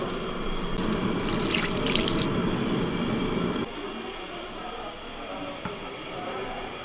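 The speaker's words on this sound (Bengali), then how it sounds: "এবার এর মধ্যে একটু জল দিয়ে দেবো" Water is poured into a pot of boiled coconut pitha as a steady, close gushing stream, which stops partway through and leaves a quieter background with a faint drip.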